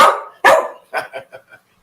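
A dog barks up close and loud: one long bark, then a sharper one, followed by a run of four or five shorter, fading yips and woofs.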